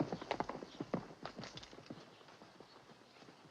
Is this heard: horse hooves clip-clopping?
yes